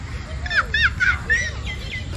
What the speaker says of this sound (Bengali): এই তো টিয়া পাখি